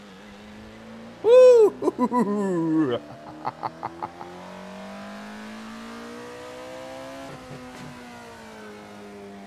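A classic car revs in the Assetto Corsa racing game, its engine tone swelling and falling steadily through most of the stretch, with a loud excited voice and a few sharp bursts early on.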